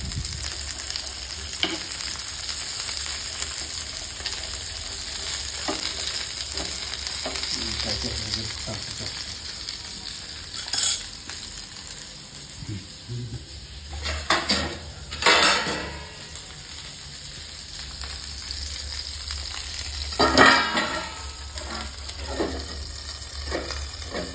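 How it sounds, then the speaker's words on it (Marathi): Homemade fish fingers fry in a pan, giving a steady close sizzle throughout with scattered clinks of utensils and pan knocks, a few sharper bumps standing out near the middle and end; no one speaks. "पूर्णपणे फ्राय होईल असं वाटतं."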